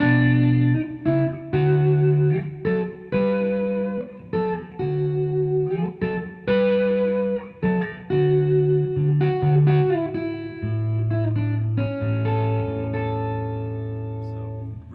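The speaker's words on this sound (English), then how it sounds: "I love the sound of this neck pickup by itself" Electric guitar on a John D'Amato Signature Escape, played through the neck pickup alone with a tone-shaping capacitor, giving a warm sound: clear single notes and short phrases picked in rhythm with reverb, ending on a held, ringing chord.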